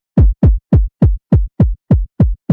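Distorted low-end bass in music production, a run of nine punchy, heavily saturated bass hits in a steady even rhythm, each a short booming thump with gritty overtones, loud and alone.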